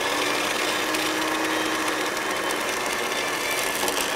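A blender frothing hummus ingredients, a steady whirring motor hum running continuously at moderate level without pause.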